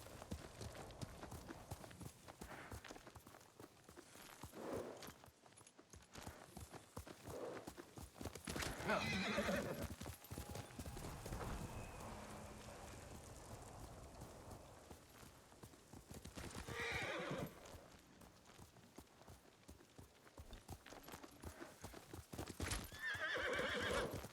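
Horse hooves clip-clop in a steady rhythm, broken by a couple of loud neighs and whinnies, with a faint game-style ambience behind, in the video game Ghost of Tsushima.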